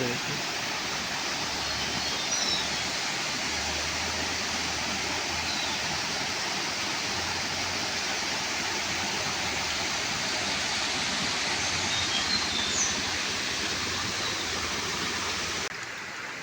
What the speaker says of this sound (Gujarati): પાણી જોઈ શકો છો કેવી રીતના પાણી પડે છે